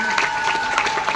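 Applause from an audience at a leaders' celebration event in Dehradun, a brief burst of steady clapping with a tonal hum running underneath.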